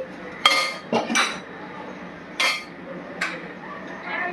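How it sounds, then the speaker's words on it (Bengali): A metal lid is put back on a pot of homemade mutton curry, giving several sharp clinks and clatters close by, spaced over a few seconds against a quiet room. "তাহলে এটা আবার ঢেকে দিই।"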